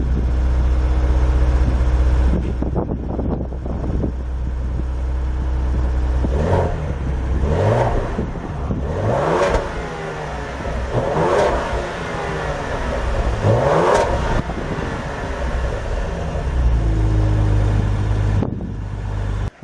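Ford Explorer ST with an X-pipe exhaust, idling with a deep rumble, then several sharp revs rising and falling one after another, close and loud, before settling back to idle.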